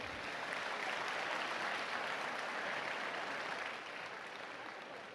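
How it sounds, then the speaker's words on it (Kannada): Steady applause from a large audience at a devotional music programme, continuous and full for several seconds before easing slightly at the end, with no speech over it. "ಇಲ್ಲಿ ಸೇರಿರುವ ಎಲ್ಲ ಹೆಣ್ಮಕ್ಳಿಗೆ ಒಂದು ಜೋರಾದ ಚಪ್ಪಾಳೆ ಕೊಡೋಣ."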